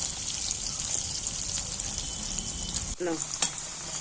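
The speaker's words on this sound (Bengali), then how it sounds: "একটু লাল লাল করে তেলের মধ্যে নাড়াচাড়া করে একটু লাল লাল করে ভেজে নেব।" Potatoes frying in oil and being stirred, a loud steady sizzle with light scraping, which briefly drops away near the end before a few clatters return, no speech.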